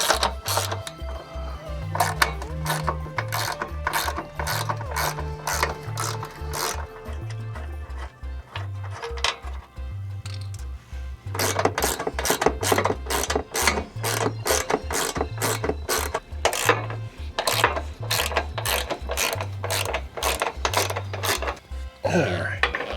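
A ratchet wrench clicks rapidly and rhythmically in repeated bursts while backing 13 mm bolts out of the factory sidesteps on a Chevy Colorado ZR2 truck, close and crisp, pausing briefly midway before resuming.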